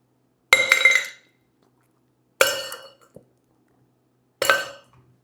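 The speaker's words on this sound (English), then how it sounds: "I'm going to be putting a couple ice cubes into the bigger shaker tin" Ice cubes dropped into a large metal cocktail shaker tin for a Saturn cocktail, three separate bright clinking clatters about two seconds apart, close and clear.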